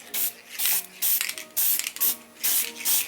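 Close spray painting lays a light, see-through coat onto a body, heard as a series of about seven short hissing bursts from the spray can in a steady on-off rhythm with brief pauses between.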